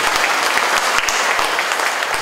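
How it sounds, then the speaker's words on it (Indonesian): An audience at an education office visit in East Java claps for Pak Wahid, a loud, dense burst of applause from a close crowd filling the whole moment. "Tepuk tangan untuk Pak Wahid"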